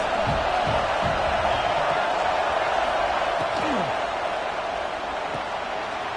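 A loud stadium crowd roars steadily at a college football game between Troy and Clemson, a dense continuous wash of noise with commentary voices underneath.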